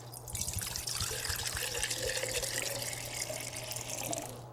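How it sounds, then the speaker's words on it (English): Water runs steadily from a tap into a jar, a constant splashing trickle with a low hum beneath it. "Fill each jar half the way full with water."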